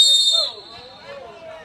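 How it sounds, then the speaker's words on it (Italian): A referee's whistle sounds at a futsal match, a sharp high tone at the start that fades within about half a second, followed by faint arena chatter. "Ora fischio dell'arbitro che ha visto un fallo, calcio di punizione per la Roma."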